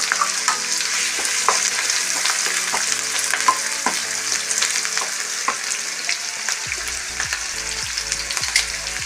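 Finely chopped onions frying in coconut oil in a pan give a loud, steady sizzle close up, with faint stirring clicks and no voices.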